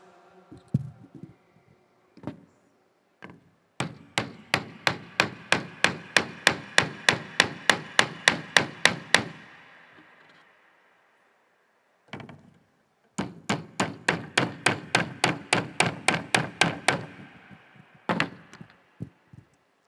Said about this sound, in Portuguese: cada cravo, aqui representado por um prego simplesmente, foi cravado nessa cruz